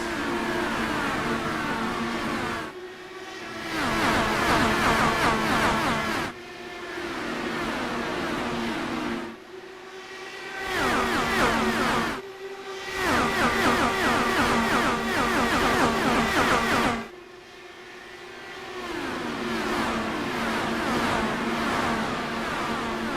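Racing cars in the iRacing video game at Nashville roar away from the green flag in an Indy Elite Series race, with repeated waves of rising engine revs and gear changes, loud and close, with brief quieter gaps between bursts.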